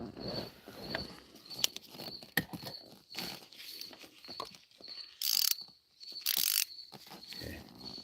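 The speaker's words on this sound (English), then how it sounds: "Here's a ratchet. I'm going to start taking down this valve cover on the driver's side bank." A ratchet wrench works on the driver's-side valve cover bolts of a GM 4.3L engine, giving quiet bursts of clicking between pauses, with some sharper handling knocks and rustles in a workshop.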